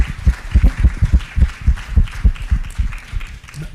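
Loud audience clapping at a conference closing plenary, with heavy, deep rhythmic beats close to the microphone, about three per second, continuing steadily throughout.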